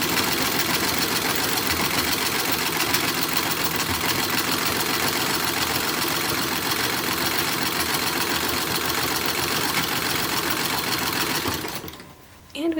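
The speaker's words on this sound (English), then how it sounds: "So I'm sewing the sides of the skirt." A sewing machine stitches the side seams of a skirt for a WWI Motor Corps uniform, running in a steady, continuous whir for about twelve seconds before stopping abruptly near the end.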